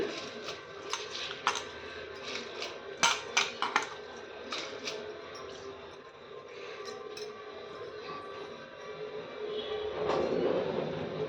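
A cup of rice is poured into a pot for beetroot biryani, giving a cluster of small, sharp clinks and rattles early on before the sound settles into a soft, steady background hiss.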